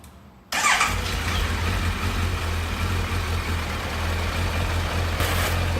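An engine cranks and catches with a sharp burst, then settles into a steady low idle that runs on alone. A brief rise near the end suggests a throttle blip. Warming up before an oil change for a touring trip.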